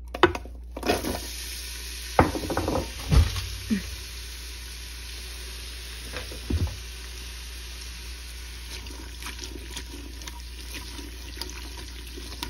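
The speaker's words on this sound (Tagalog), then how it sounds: "dahil mainit na yung mantika, ilagay na natin tong onion" Chopped onion dropped into hot oil in a pan while making maqlooba, with bursts of stirring and scraping over a faint steady sizzle; no one speaks.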